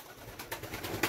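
Pigeons in a backyard pigeon loft give a few soft, low cooing calls, faint and brief, with a quiet background and no talking.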